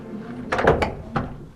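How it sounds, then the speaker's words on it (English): A very heavy old cathedral door swinging shut, giving a few low wooden thuds and a creak, followed by a second dull knock as it settles, heard close in a reverberant stone interior. "It's a very heavy door, by the way."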